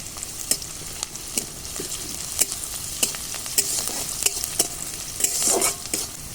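Chopped onion and crushed garlic fry in hot oil in a wok with mustard seeds, cumin and green chillies, giving a steady sizzle punctuated by regular scraping stirs, close and without talk.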